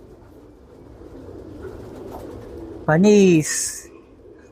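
Pigeons coo in a pigeon-fancier's loft, one loud close bird giving a single rising, rolling coo above a soft background murmur of birds and faint talk.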